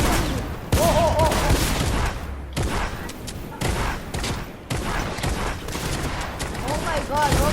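Gunfire in the video game Close Encounters: rapid bursts and thudding shots keep going throughout, with voices talking and reacting over the action.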